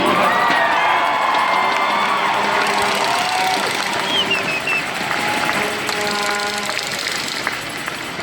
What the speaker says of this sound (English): If you're going to clap like you mean it this week.